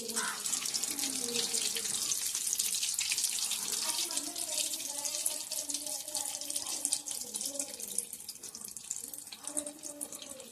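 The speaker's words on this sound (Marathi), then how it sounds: "आपले वडे भाजतात" Batata vada sizzling as they fry in hot oil, a steady, dense crackling hiss that carries on without a break, with faint talk underneath.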